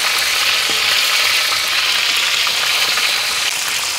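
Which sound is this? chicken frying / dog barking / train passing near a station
chicken frying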